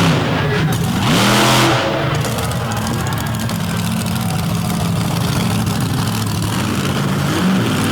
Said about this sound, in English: Totally different sounding piece of equipment here in Virginia Giant with that Hemi horsepower.